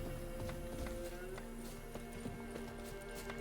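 Roach, Geralt's horse in The Witcher 3, trots and gallops with steady, fairly quiet hoof clops over a sustained ambient drone, with a faint voice underneath.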